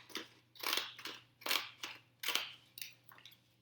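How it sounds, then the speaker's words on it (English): Scalloped edge scissors snip through green paper in a series of crisp, close cuts, about seven distinct strokes with short pauses between them and no voices. "I'm going to cut a triangle out of my green paper"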